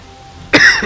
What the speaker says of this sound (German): gerade mal kurz ein bisschen husten